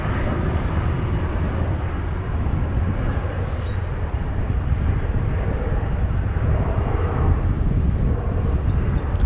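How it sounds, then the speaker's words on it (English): An American Airlines Boeing 777-200 airliner passes outdoors near an airport, producing a broad, steady jet roar that holds at a constant loud level throughout, with no voices. "777-200 going to Charlotte, flight 2544, American Airlines."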